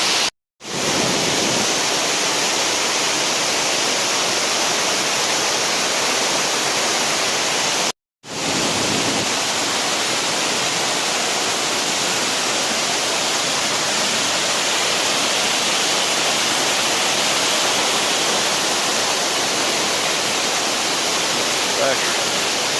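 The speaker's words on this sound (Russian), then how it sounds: "Это вот такой первый водопад хороший." A waterfall in the Nikhaloy falls, Chechnya, roars steadily and loudly, a dense continuous rush of water that briefly cuts out twice before resuming unchanged.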